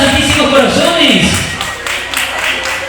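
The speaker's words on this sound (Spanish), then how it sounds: "un aplauso" An audience at an intercollegiate school reading contest awards ceremony in Pasaje, El Oro, Ecuador claps and cheers in a steady, fairly loud burst of applause, with voices mixed in.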